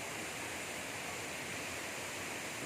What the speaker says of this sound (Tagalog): Ayun pinagmamalaking falls